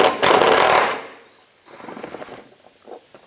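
Ratcheting tool spinning off 10mm bolts from the splash guard of a 2006-2013 Chevrolet Impala, a loud close burst of rapid clicking followed by quieter intermittent ratchet clicks.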